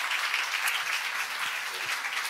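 Sustained applause from a church congregation welcoming a pastor to the stage, steady and dense throughout without any talk.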